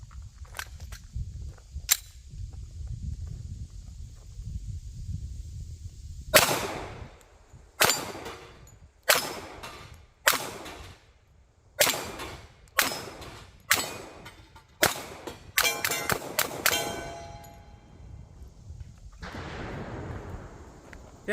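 A Glock 21 pistol fires Winchester .45 ACP rounds outdoors, about a dozen sharp, loud shots in an uneven rhythm, each trailing a short echo, after some quiet handling noise.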